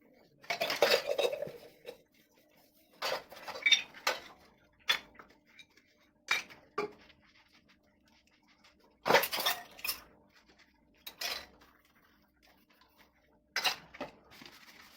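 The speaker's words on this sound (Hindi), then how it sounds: "खाना बनाने के बाद फिर मैंने फटाफट से बर्तन साफ़ किया।" Pots, pans and cutlery clatter and clink in a home kitchen as dishes are quickly washed after cooking, arriving in irregular bursts of scraping and knocking with quiet gaps between and no one talking.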